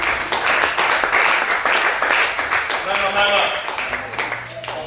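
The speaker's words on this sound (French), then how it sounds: "Acclamation." A church congregation bursts into clapping during a worship service, a loud, dense burst of hands that carries on for several seconds while voices call out over it.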